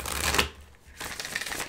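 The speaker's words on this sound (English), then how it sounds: "Let's give this a little bit of a shuffle." A deck of oracle cards being shuffled by hand close up, two quick papery riffling bursts separated by a brief pause.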